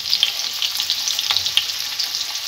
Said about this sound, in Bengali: আলুগুলোকে লাল করে ভেজে নেব।